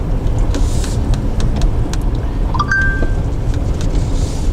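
A car driving along a rural road, with a steady loud engine and tire rumble throughout, close and continuous, no talking.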